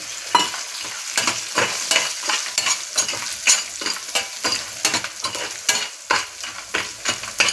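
Pieces of fried dried meat stirred into cooked onions in a pan: rhythmic scraping stirs over a continuous close sizzle, repeated strokes roughly every half second.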